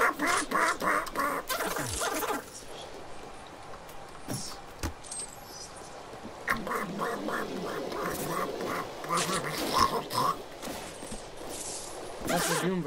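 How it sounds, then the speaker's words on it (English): Squeaky, Donald Duck-like quacking sounds from the DOOM beta video game repeat in rapid bursts, loud and close, over steady game noise and blasts. "Keeps squeaking like Donald Duck."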